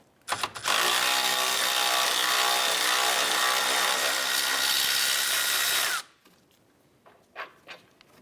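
A power tool, likely an impact gun, runs in one sustained loud burst of about five seconds, loosening a front lower control arm bolt on a 2011–2018 Volkswagen Jetta, followed by faint shop clatter.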